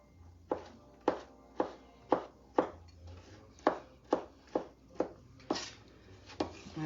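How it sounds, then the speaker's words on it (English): A knife chops vegetables on a cutting board while making chili: about a dozen crisp, evenly spaced thuds, close and distinct, with quiet gaps between strikes and no talking. "I'm gonna chop them up just a little bit."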